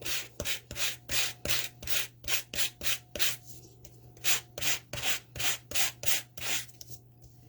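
Sandpaper scrubbed back and forth across a wooden clipboard in quick, even strokes, about two or three per second, close and fairly quiet with no voices.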